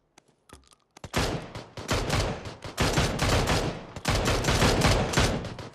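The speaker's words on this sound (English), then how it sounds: "there's a lot of shooting going on already" Gunfire in the battle royale game PUBG: after a few faint early pops, dense rapid bursts erupt and continue loud and nearly unbroken, with a short pause before another heavy stretch of shooting.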